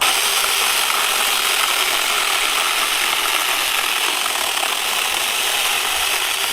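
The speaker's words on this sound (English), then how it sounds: "Remember, we're just letting the chainsaw do the work for us." A 6-inch TomyVic mini chainsaw cuts into a wet log, its small motor whining and chattering in a loud, constant drone with no pauses over several seconds.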